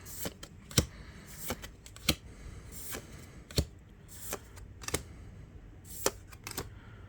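Flesh and Blood trading cards from Monarch Unlimited booster packs are flipped through quickly by hand. Crisp papery snaps and riffles come at an irregular, fairly quick pace, close up, with no voices.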